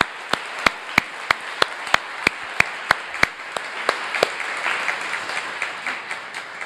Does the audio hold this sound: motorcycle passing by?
no